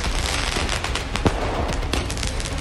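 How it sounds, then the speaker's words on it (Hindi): Diwali fireworks and firecrackers going off late at night in Lucknow, a dense run of sharp cracks and pops over a constant background crackle, loud and continuous with no voices. "लखनऊ में भी खूब आतिशबाजी देर रात तक देखने को मिली।"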